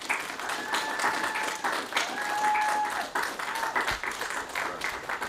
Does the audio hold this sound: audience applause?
yes